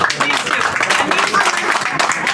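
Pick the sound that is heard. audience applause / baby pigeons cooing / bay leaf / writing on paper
audience applause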